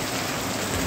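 Village rainfall comes down hard in a steady, close wash of drops striking surfaces, a brief unbroken burst with no one speaking.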